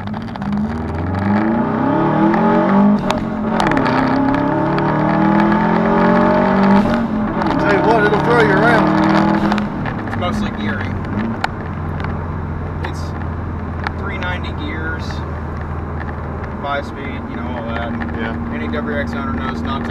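A Subaru WRX pulls hard from a standstill, its engine climbing through rising revs in a few gear pulls before settling into a steadier drone, loud from inside the car while people talk over it.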